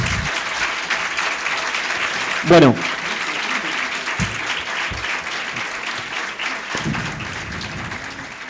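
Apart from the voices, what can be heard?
audience applause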